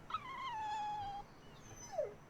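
A dog in the video game Tales of Berseria lets out a drawn-out whimpering whine that slides slowly downward, then a short, rising yelp follows, both clear above a quiet background.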